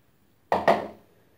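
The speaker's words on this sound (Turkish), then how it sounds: "bolca yıkamış olduğum karpuz kabuklarımı ilave edeceğim." Washed watermelon rinds drop into a cooking pot, giving two quick hollow knocks and clatters close together that fade fast, close by with nothing else around.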